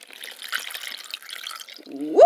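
Coconut milk poured into sea moss, a light, close liquid splashing and trickling that ends in a brief rising gurgle as the container fills.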